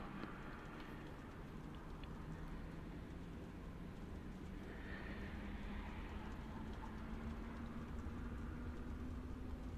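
A Class 380 electric multiple unit running on the Glasgow Airport Rail Link in the Train Simulator Classic game: a faint, steady low rumble with a motor whine that rises slowly in pitch.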